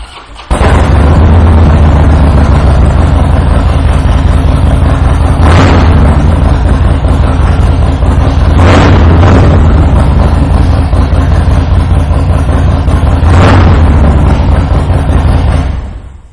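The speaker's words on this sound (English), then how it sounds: "I am going to take the time to fire this bike up so you can hear that Vance & Hines exhaust" A 2007 Harley-Davidson Softail Deuce with a 96 cubic inch V-twin and Vance & Hines exhaust runs loud and close after a start, holding a steady deep rumble with a few sharp blips of throttle for about fifteen seconds before it cuts off.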